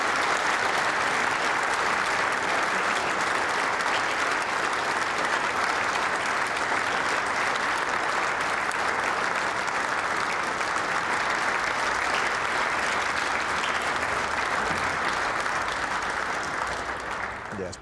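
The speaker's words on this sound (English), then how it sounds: "a huge round of applause for your champion" Audience at the SYIBA U17 national youth final applauding the champion, a dense, sustained round of applause that holds steady and loud throughout before tapering slightly at the very end.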